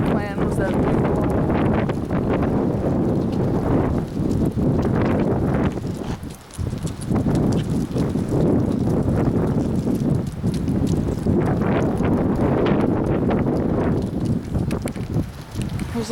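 Strong gusting wind of about 50 mph roars and buffets steadily, close and loud, with a brief lull midway; voices can be heard faintly under it.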